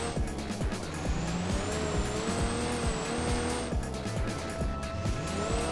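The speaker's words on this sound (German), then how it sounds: "Wir fahren einfach mal Vollgas" A car engine at full throttle in BeamNG.drive climbing a hill, loud straining roar with rising gear tones, repeated gear shifts and tire squeal, no talk.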